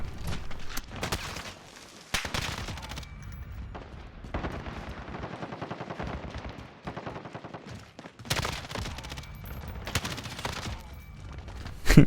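Bursts of automatic assault rifle fire from an AMAX in Call of Duty: Modern Warfare, with repeated rapid volleys that are loud and close, separated by brief pauses, and no talking.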